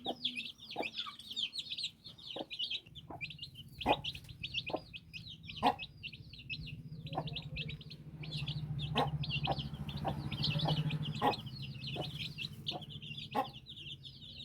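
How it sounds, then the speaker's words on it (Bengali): Aseel roosters cluck and chatter while being fed, a busy run of repeated calls close by, with sharp pecking taps mixed in over a low, shifting background. "আজকে মোরগগুলোকে খাবার দিচ্ছি"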